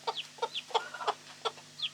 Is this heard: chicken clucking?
yes